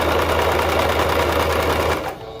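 A sewing machine stitches a seam with black thread while running unevenly, producing a loud, steady mechanical whir with a low motor hum close by, then stopping abruptly near the end.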